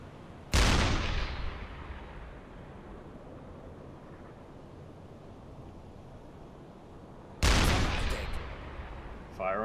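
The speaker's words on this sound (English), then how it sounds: "I'll take a shot of the bridge with the HE." Two booming deck gun shots with high-explosive shells fired at a ship's bridge in the submarine game UBOAT, each a sharp loud blast with a long rumbling decay, several seconds apart over a low sea ambience.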